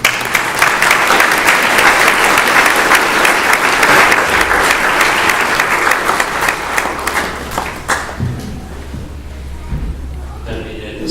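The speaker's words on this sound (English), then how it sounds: "can we clap for him as he moves?" A seated audience applauds an award recipient as he moves to take his chair at a Pro Ecclesia et Pontifice award ceremony. Loud, dense clapping runs steadily for about eight seconds, then thins to scattered claps over a low hum.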